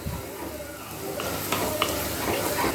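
Masala sautéing in oil in a pan for a fish chatti kulambu, a steady soft sizzle with a few light clinks of stirring, fairly close.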